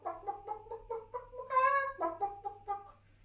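Voices imitate a cockerel crowing during a primary school tai chi session, a single drawn-out cock-a-doodle-doo call with a stretched, rising peak, loud and close.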